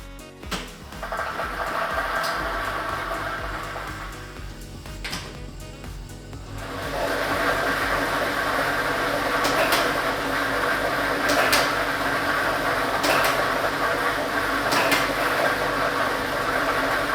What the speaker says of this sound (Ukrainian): Тиражна комісія до початку гри довільно обрала лототрон Б комплект кульок номер 4 І ми вмикаємо лототрон.